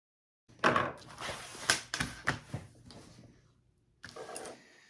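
A sewing machine top stitches the lining of a tote bag, running in short loud bursts with brief pauses, then one more stretch of stitching after a quiet gap, with no voices.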